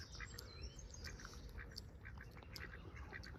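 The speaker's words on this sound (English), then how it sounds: "let the ducks enjoy the Saturday morning" Ducks quack in short repeated bursts on a Saturday morning outing in Northumberland, the calls moderately distant over faint outdoor ambience with no speech.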